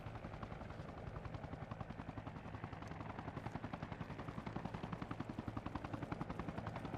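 Helicopter in a military simulation video game, its rotor beating in a fast steady chop that stays constant and fairly faint throughout, with no talk over it.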